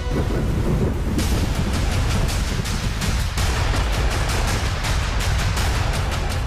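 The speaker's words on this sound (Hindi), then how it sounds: "ये तबाही तूफानी है, समंदर से तबाही का शोर मचाता पानी है।" Stormy sea water and driving rain roar during Cyclone Tauktae on the Arabian Sea coast, a loud, dense, continuous wash of noise with deep rumbling underneath and no voices.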